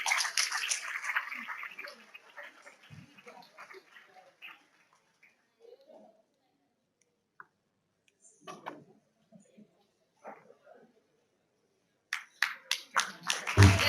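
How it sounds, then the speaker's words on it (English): Audience clapping at a school annual day prize giving, loud and dense at first, then thinning and fading into near silence with scattered small noises before a fresh burst of sharp, close claps near the end. "Give them a huge round of applause."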